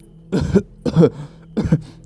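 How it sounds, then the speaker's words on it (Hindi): Three short coughs in a row from dust, evenly spaced and close, with quiet gaps between them. "उस धूल की वजह से उन तीनों को खांसी आने लगी"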